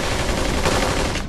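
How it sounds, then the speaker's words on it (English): Dense, continuous gunfire from the video game Kane & Lynch 2, a loud sustained burst of rapid shots filling the whole moment with no pause. "Who's shooting?"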